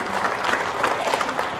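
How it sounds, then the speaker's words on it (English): A round of applause breaks out at a UI GreenMetric ceremony honoring a guest, a crowd clapping densely and loudly in an unbroken burst. "Ladies and gentlemen, please give a round of applause for Bapak Agus Yustianto."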